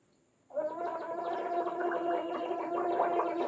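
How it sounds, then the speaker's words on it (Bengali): A person gargles hot water to soothe a sore throat, the bubbling starting abruptly and then holding as one steady, loud, throaty burble for about three seconds, with no talking. "আমার এই গরম জলে গার্গল করা"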